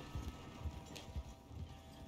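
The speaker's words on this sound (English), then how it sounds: "we have 4 horses behind us" Several horses galloping behind a wagon in a video game, a faint rhythmic clip-clop of hooves at a steady pace beneath low background noise.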